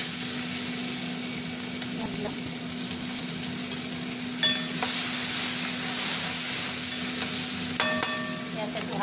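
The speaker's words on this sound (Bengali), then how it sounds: "পেঁয়াজটা একটু ভাজা ভাজা হোক।" Onion frying with whole cumin seeds in a pan gives a steady, close sizzle and hiss, with a few sharp spatula clinks against the metal.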